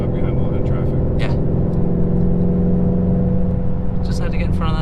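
Ford Mustang Shelby GT350 engine pulling hard to overtake another car, a loud, sustained, deep rumbling drone from inside the cabin with rising revs, with some voice-like sounds faintly mixed in.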